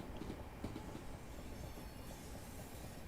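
Class 465 electric train in Train Sim World, Southeastern Rainham to London Victoria route, running steadily with a constant rumble of wheels and rail noise, faint squeals and no speech.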